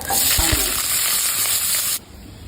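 Mustard seeds, urad dal and green chillies crackle and sizzle loudly in hot oil as a tempering, with a few stirring knocks near the start, before the frying cuts off abruptly.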